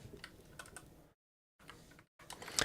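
Typing on a computer keyboard while writing CSS, with quick bursts of soft key taps broken by short silent gaps and a slightly louder clatter at the end.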